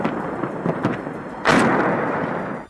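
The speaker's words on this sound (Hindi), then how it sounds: "शाम के हल्के अंधेरे में रूस की तरफ से अज़ोवस्ताल स्टील प्लांट के आसपास बरसाए गए बम तेज चमक के साथ धमाका करते दिखाई दिए।" Russian bombs exploding around the Azovstal steel plant at dusk: a rumbling series of distant thuds followed by one loud, sharp blast with a long rolling decay, no voices.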